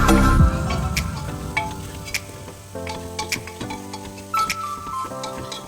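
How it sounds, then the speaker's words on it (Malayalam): Spice powders stirred into hot pork fat in a pan for a Kerala-style pork roast, with soft scraping strokes and intermittent ticks of spoon against the vessel over a faint sizzle. "ഇനി നന്നായിട്ട് അതൊന്ന് ഇളക്കി കൊടുക്കുക."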